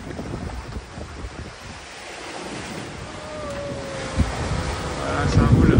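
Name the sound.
rough sea waves and wind around a sailboat crossing the Atlantic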